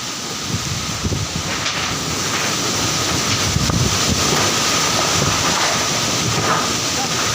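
Strong, roaring typhoon wind buffeting the microphone continuously, a dense rushing noise with no letup.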